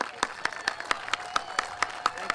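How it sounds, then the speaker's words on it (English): Audience at an anti-Obamacare Tea Party rally in Glen Allen, Virginia, gives sparse, rhythmic applause, a few distinct claps spaced evenly and moderately close. "Thank them with your applause."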